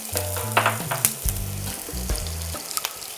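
Onions going into about three tablespoons of hot oil for Jamaican brown stew chicken: a close, steady sizzle and crackle with a little stirring, alone without talk.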